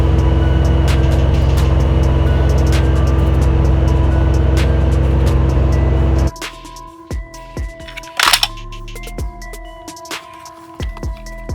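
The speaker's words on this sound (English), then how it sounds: "Wheel loader." A wheel loader's heavy diesel engine drones loudly and steadily, then drops to a lower rumble broken by a few clunks and mechanical knocks.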